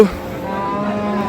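A dairy cow at a livestock market in Ambari moos loudly and close by in one sustained, low, droning call.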